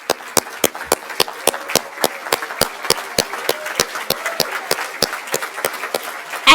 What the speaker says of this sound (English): let's just give a round of applause to all our graduates